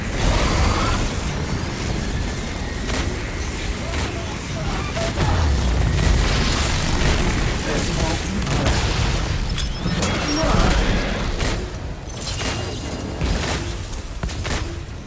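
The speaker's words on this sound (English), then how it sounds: "Heavy artillery!" Heavy artillery blasts in the video game Exoprimal, a dense barrage of booms and bursts rolling on continuously and loudly across the whole stretch, mixed with game effects and some voice.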